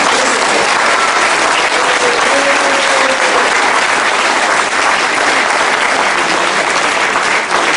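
A large convention audience at a French political gathering claps loudly and continuously in sustained applause, dense and close throughout.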